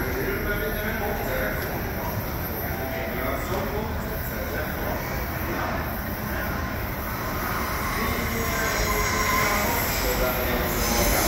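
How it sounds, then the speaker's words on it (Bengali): A train pulls in on another line at Stockholm railway station, a steady broad rumble and rush filling the whole stretch while people talk nearby. "ওই লাইনে আরেকটা ট্রেন চলে আসছে"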